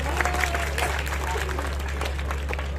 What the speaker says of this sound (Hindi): तो मैं इसके लिए मैडम के लिए और पूरी जो टीम है हमारी, उनके लिए तालियां जरा जोरदार चाहूंगा।